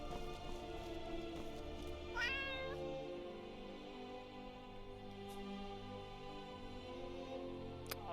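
A cat in Skyrim, played with the Legacy of the Dragonborn mod, gives a single clear meow over a steady humming backdrop of game ambience and music.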